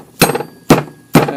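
Three sharp, evenly spaced metallic hammer taps drive a part, likely the pulley, onto a Denso 6E171 AC compressor from a Porsche 928, close and loud with no talking.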